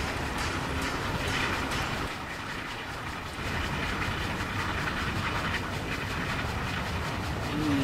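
Steam locomotive Tornado running in Train Simulator Classic, a continuous rhythmic chuffing and rail clatter heard close and loud, pulsing steadily across the clip with no talk.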